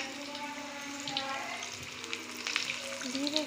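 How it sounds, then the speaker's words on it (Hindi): Aloo bada frying in hot oil in a pan, giving a soft steady sizzle with a few brief clinks and scrapes from turning, heard at a moderate distance. "एक तरफ से हल्के से फ्राई हो चुके हैं, अब दूसरी तरफ से भी हल्के से हो जाएंगे"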